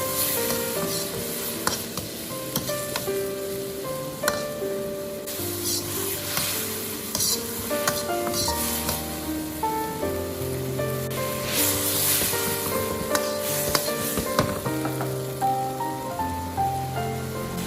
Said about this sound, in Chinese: 接着往锅边淋入少许的清水，将调料稀释一下，再将汤汁煮开